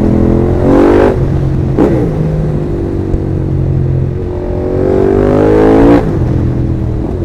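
A small motorbike ridden on the road revs hard in two loud bursts of rising engine pitch, dropping back between them to a steady, close drone with no talking.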